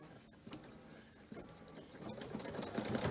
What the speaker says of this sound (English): now we're going to just finish it off with a nice little satin stitch